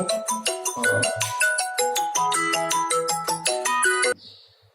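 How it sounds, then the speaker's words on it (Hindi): A mobile phone ringtone plays a quick, bright melodic tune of rapid repeated notes, loud and close for about four seconds before cutting off abruptly. "हाँ बेटा ये फोन आ गया था"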